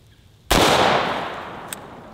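A single sharp rifle shot from an AR-15 firing a green tip 5.56 round at honeydew melon targets, loud and close, with a long decaying echo and a faint second crack shortly after.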